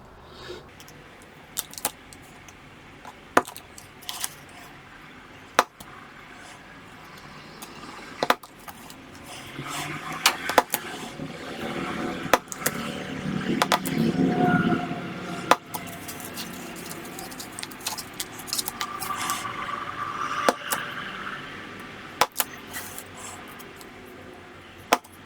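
Model ship parts are cut out of an MDF sheet, a quiet workshop sequence of sharp isolated clicks and snaps spaced every second or two, with a stretch of softer scraping and rustling in the middle.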